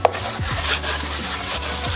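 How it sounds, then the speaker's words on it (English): Rhythmic back-and-forth scraping strokes come from a sanding block working a Civic car body panel. The rasping passes are close, even and steady, with no talking. "Precision block sanding."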